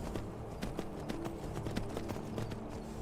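Horse hooves clip-clopping in the Skyrim video game, a brisk, even rhythm of close hoof strikes running continuously throughout.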